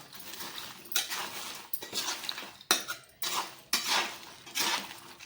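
A spoon stirs fried wheat-flour dough pieces through thickening sugar syrup in a metal pot, giving a series of close, rhythmic scraping strokes and clinks against the pan, roughly six passes with no voices.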